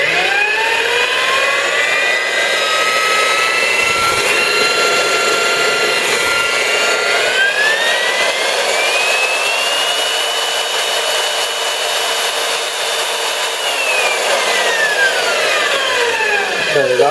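A Milwaukee 4208 magnetic drill press runs continuously at close range, its motor whine rising and falling as the variable speed control is turned up and down, loud and steady with no talking.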